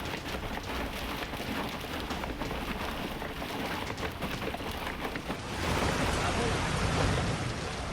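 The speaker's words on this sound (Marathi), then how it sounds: "तर निफाडमध्ये मुसळधार पाऊस झालाय" Heavy monsoon downpour drenches Niphad, a dense, continuous roar of rain on surfaces that swells slightly louder toward the end, with no voices over it.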